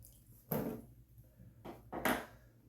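Water splashed onto a shaving brush during a wet shave, a few short close wet dabs and splashes in quiet surroundings, with no talk.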